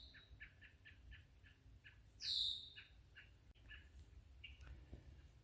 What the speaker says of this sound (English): There's a woodpecker up there.